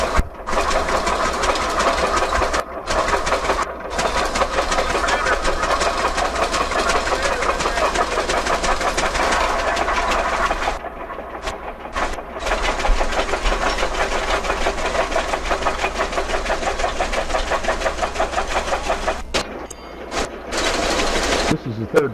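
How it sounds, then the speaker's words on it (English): Vintage tractor engine running steadily as it backs into a hitch for a 50-bottom plow at the Rollag threshing show, a loud continuous mechanical drone with brief dropouts, voices talking over it. "This is the third tractor backing into the hitch, or the lead tractor, the number 1 tractor."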